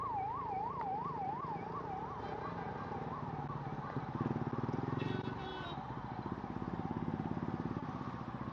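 An ambulance siren wails in a steady rising and falling cycle as it passes on a street, loud at first and then fading under traffic and engine noise.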